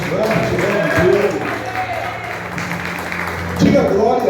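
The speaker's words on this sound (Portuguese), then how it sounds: "Aplauda mais forte, vamos ver." A church congregation claps together during a service, steady dense applause with a low hum underneath and a voice speaking over it near the end.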